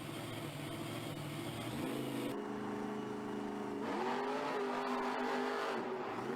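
Monster trucks launching off the starting line side by side, engines revving in rising stepped pitches that climb with each gear, loud and sustained under distant crowd noise.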